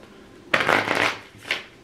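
Tarot cards riffled in one quick close burst lasting under a second, then a short softer flick as the deck settles.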